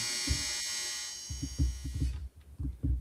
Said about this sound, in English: No, so that's my dryer.